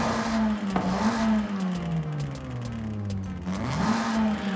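An Audi TT RS in Race mode in Forza Horizon 5, its engine revving up and down at close range, a loud throaty drone rising and falling in pitch, alone with no talk.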